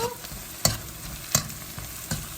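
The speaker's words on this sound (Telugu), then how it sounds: "పచ్చిమిర్చి, కరివేపాకు బాగా వేగినాయండి." Onions, green chilies and curry leaves frying in a pan, a quiet steady sizzle broken by a few sharp stirring scrapes at regular intervals.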